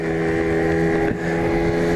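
A small Tomos moped engine drones steadily while riding, a loud, close buzzing hum with wind rush over the microphone and a brief dip in the middle.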